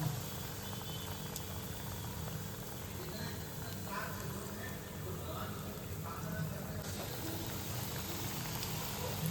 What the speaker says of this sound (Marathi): आता आपण इथे करून मिरची तळून घेऊया